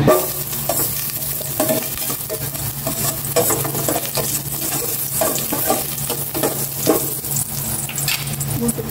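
Chopped ginger sautéing in hot cooking oil in a pan, a steady close sizzle with repeated scraping stirs throughout, no voices.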